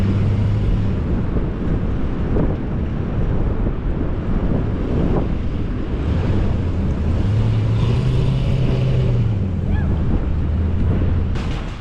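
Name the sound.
off-road vehicle with monster tires climbing on beach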